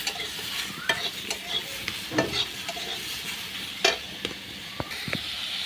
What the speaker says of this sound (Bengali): ওটা দিয়ে এইভাবে নাড়াতে থাকবো। অল্প লবণ অ্যাড করে দেব। দিয়ে সবজিটাকে হালকা ভেজে নেব।